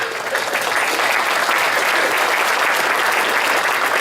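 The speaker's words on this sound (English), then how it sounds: "please give yourselves a round of applause for that" A room of guests at a chamber of commerce annual dinner claps together, a loud, continuous wash of hand claps that stays level from start to finish with no voices over it.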